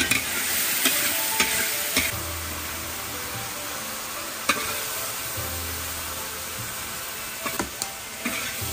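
Tomato, green pepper and minced garlic stir-fried in olive oil, a steady close sizzle with a few sharp clicks of the spatula against the pan, no voices.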